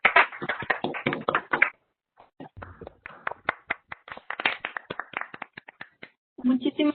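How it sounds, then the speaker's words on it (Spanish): Scattered hand clapping from an online audience thanking a lecturer at the close of a talk, crisp uneven claps coming in bursts with a short gap, fairly close and dry as if through several microphones. "Les pido a todos que abramos nuestros micrófonos para despedir a la doctora Quintanar con un fuerte aplauso."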